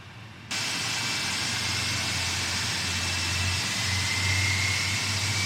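Engines 1 and 2 of a PMDG Boeing 747 spool up in a flight simulator: after a brief quiet moment, a steady broad roar with a low hum switches on and holds evenly with no voices.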